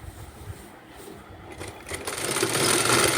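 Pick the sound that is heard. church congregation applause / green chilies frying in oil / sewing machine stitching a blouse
sewing machine stitching a blouse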